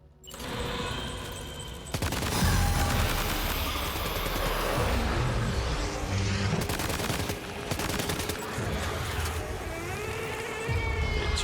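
Rapid gunfire in Death Stranding 2: On The Beach, a dense, continuous barrage of loud shots running through most of the stretch over a busy game mix, with no talking.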